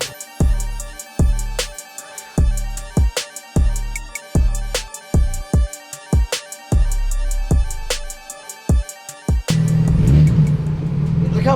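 A car engine freshly serviced with a synthetic oil change, new filter and topped-off fluids is blipped in a quick series of about a dozen sharp, loud revs, then settles into a steady, continuous run, close by.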